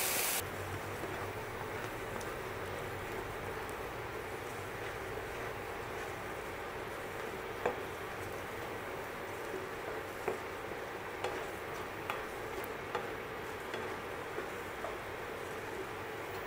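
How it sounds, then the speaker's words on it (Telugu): Lentils for a bachelor-style tomato dal being stirred in a cooking pot: steady soft scraping and faint sizzle throughout, with a brief louder rustle at the very start, no voices. "ఇప్పుడు పప్పు వేసుకుంటున్నాం."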